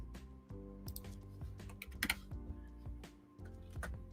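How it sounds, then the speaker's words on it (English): Rapid clattering keystrokes on a computer keyboard, close and fairly loud, in uneven bursts with brief pauses and a few sharper clicks, no talking. "I keep typing on the wrong things"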